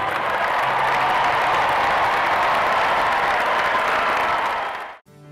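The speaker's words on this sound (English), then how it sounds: "we will join you in a round of applause for them" Sustained, loud applause from graduates and families filling a large venue at a 2019 university undergraduate commencement, steady dense clapping that cuts off abruptly near the end.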